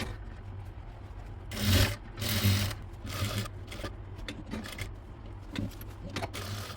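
A sewing machine stitches along the side of a kurti neck design, humming steadily up close in short bursts and surges, with light handling knocks between runs.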